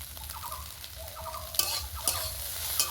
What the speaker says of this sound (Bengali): তেলটা দিয়ে হালকা একটু নেড়ে চেড়ে কয়েক সেকেন্ড মতো নাড়াচাড়া করে নিলেই হবে